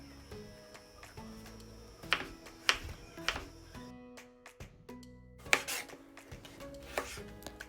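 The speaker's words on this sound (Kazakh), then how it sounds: "ағыршығымызды, яғни қиярымызды кесіп аламыз" A knife slices cucumber into pieces on a cutting board, a series of sharp, close, irregular chops and taps with brief pauses between strokes.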